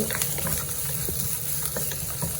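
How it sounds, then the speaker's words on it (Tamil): Chopped onions frying in a pan for a Maldive fish sambol: a loud, continuous close sizzle with occasional stirring clicks, and no voices. "இப்போ வந்து வெங்காயத்தை போடுவோம் சரியா வெங்காயத்தை போட்டு"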